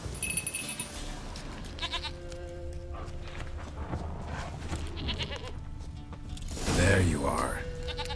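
A goat bleats in The Witcher 3: Wild Hunt, a stubborn horned animal answering over game music and ambience, with a louder, nearer cry toward the end.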